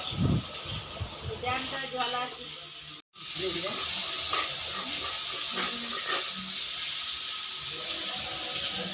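Karela fish sizzling as it fries in a pan, a continuous hissing crackle close by with a brief cut partway through and a voice talking over it.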